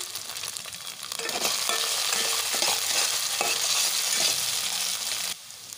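Carrot pieces frying in oil with ginger garlic paste for egg fried rice, a loud continuous sizzle with stirring scrapes throughout that drops off sharply near the end, with no voices.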